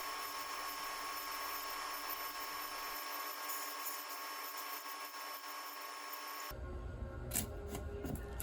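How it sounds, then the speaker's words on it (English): A table saw cuts 2x4 lumber several times, giving a continuous high whine from the running blade that shifts in tone toward the end, with no voices. "Then I'll take it to my table saw and make multiple cuts on each 2x4."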